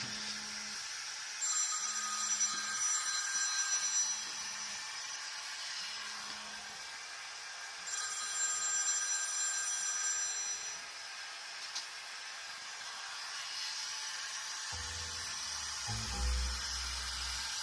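A telephone rings in a studio next to a lacquer-cutting lathe, repeating ring bursts at a moderate distance over a steady background hiss, followed by a brief low thump near the end.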